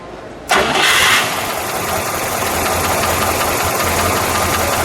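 A 1966 Plymouth Satellite's factory 426 Hemi V8 cranks and catches at once, jumping to a loud steady roar and then settling into a smooth, even running drone with no talk.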